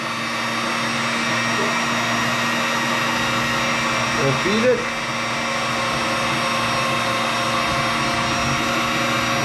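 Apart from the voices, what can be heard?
electric meat grinder grinding buffalo meat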